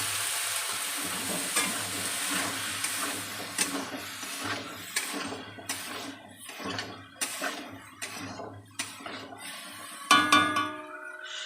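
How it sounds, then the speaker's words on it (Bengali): Cut vegetables going into a pan of fried shrimp for a curry of long beans, potato, eggplant and papaya, sizzling steadily while a spatula stirs and scrapes in irregular taps, with a sharp metallic clink near the end and no talking. "চিংড়ি মাছ ভাজা হয়ে গেছে, এর মধ্যে কেটে রাখা সবজিগুলো দিয়ে দেব।"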